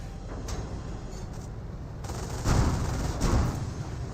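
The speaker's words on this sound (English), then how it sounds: "And now the other one's going to see some cannon fire as well" Cannon fire in Company of Heroes, two heavy booming shots from battlefield tank guns rising out of a constant rumble of combat noise, a couple of seconds apart.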